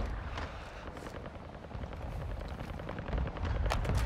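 A cruise missile strike lands in Call of Duty MW2 as a sustained, rumbling blast with roaring low-end and crackling debris, loud and continuous, swelling toward the end without talk.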